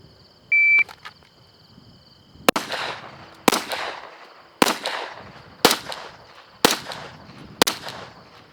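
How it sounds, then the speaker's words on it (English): Six sharp pistol shots fired from concealment at a 50-yard target, evenly spaced about a second apart and loud, preceded by a short electronic shot-timer beep. "Here we go, 6 rounds, 50 yards. From concealment."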